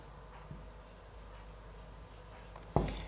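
A marker or chalk scratches across a classroom board while an English sentence is written, faint rhythmic strokes over a constant low hum, ending in a louder knock or tap near the end.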